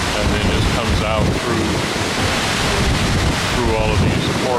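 Strong wind at a waterfall in Iceland buffets the microphone with loud, unbroken rushing noise that blends with the roar of falling water, while a voice is barely audible underneath.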